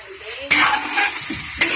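Goat kaldereta ingredients fry in hot cooking oil, a steady close sizzle with two sharp bursts as more goes into the pan, the spatter carrying throughout.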